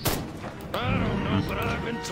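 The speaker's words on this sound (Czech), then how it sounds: "Proč na to střílí?" Gunfire in the video game Destroy All Humans!, a cluster of heavy booming shots and thuds close together over a busy game soundscape, with someone talking over it.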